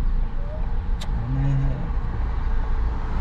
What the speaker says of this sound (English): I'm seeing people have cars.